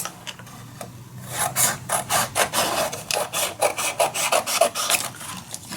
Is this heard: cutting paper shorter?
yes